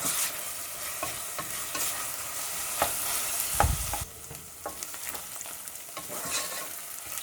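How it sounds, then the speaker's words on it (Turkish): Onion and minced meat frying in a pan for a Kütahya sıkıcık soup, with a continuous sizzle broken by repeated spoon scrapes and stirs, one heavier knock near the middle before the hiss settles lower. "Soğanla kıymam iyice kavruldu."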